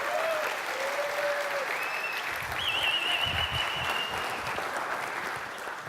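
Conference audience at a PHP Serbia event clapping, a dense sustained round of applause that fades slightly at the end, with a faint voice over it.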